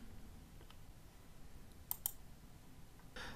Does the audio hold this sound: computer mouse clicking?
yes